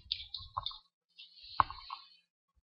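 A few quiet computer clicks and keyboard taps come in two small clusters separated by a short silence, close and dry with nothing else around them.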